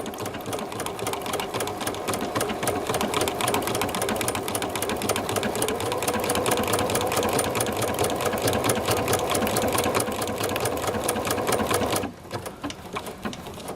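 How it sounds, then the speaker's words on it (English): A Bernina sewing machine stitches a cork book cover, a fast steady rattling needle chatter running loud and close for about twelve seconds before stopping abruptly, leaving faint handling noise. "I'm just stitching over it just to give a bolder look."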